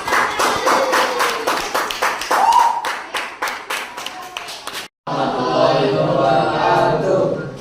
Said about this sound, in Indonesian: coba beri aplaus ya biar semangat